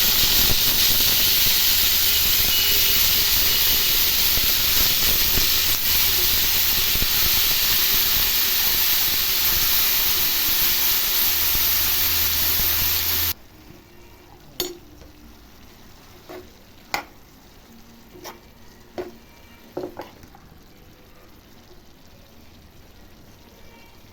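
Carrot and beetroot pieces frying with cumin in a pan, a loud continuous sizzling hiss that cuts off abruptly, followed by quieter sparse clinks and stirring taps.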